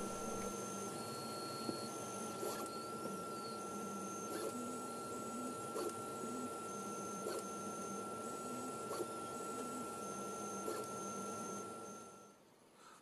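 A laser cutter works through wooden parts for a scratch-built RC Spitfire, giving a steady mechanical whine with a constant tone and regular short beeping or stepping pulses, faint and continuous before stopping near the end.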